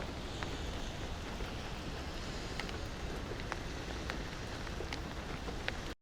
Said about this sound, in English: We also have a few in the rain.